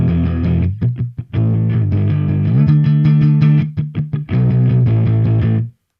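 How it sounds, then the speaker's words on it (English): An electric guitar plays a riff through a Softube amp model in Reason 8 with boost overdrive, sounding thick and fat with choppy rhythmic stops, loud and close. "it boosts the signal and overdrives it just like a boost pedal"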